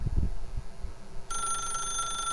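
A video game telephone rings with a bright electronic bell tone that starts partway through and holds steadily and loudly to the end, after a few low thumps.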